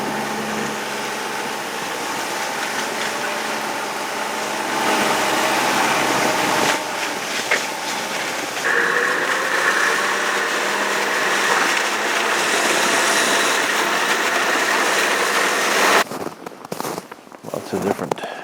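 A snowmobile pulling a skimmer sled across a big frozen lake drones steadily and loudly up close with a rough engine hum and rattle, then breaks into choppy bursts near the end.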